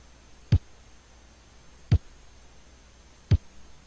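Programmed snare beat from an OpenMPT tracker, three evenly spaced sharp hits about 1.4 seconds apart over faint static, with no talk.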